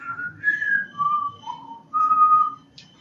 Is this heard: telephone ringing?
no